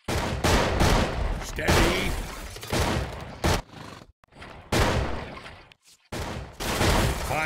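Unit gunfire in the strategy game Battle Realms, loud repeated bursts of shots and volleys arriving in clusters with short silent gaps between them, and a brief spoken unit reply among the firing.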